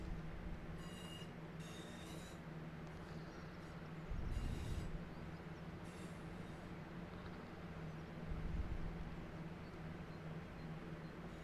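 A train moving down the track in the Train Sim World 6 video game: a steady low rumble of rolling wheels, with high squeals and two louder clattering surges partway through.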